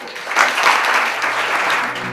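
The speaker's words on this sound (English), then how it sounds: "I'd like to give them a very big round of" An audience at a stakeholder engagement and sustainability panel event gives a strong round of applause for panellists and speakers, loud, dense clapping throughout the short stretch.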